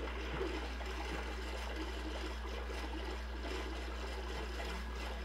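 Minecraft character swimming through water, giving a soft, continuous trickling and gentle splashing wash that stays fairly quiet and steady, with no talk over it.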